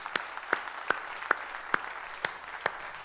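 A church congregation applauds after praise for their generosity, heard as light, scattered claps spaced apart over a steady room hum, fairly faint and distant.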